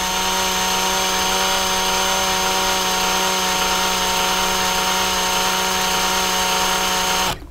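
A power drill whirs at a steady, loud pitch for several seconds as it coils wire through a ring clamp, then cuts off abruptly.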